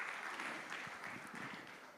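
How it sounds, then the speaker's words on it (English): An audience applauds steadily, a dense wash of clapping hands that holds even for two seconds and eases slightly at the end. "So can we welcome sir with a big round of applause"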